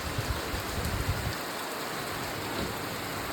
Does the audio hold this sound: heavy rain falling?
yes